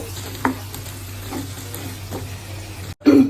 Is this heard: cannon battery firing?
no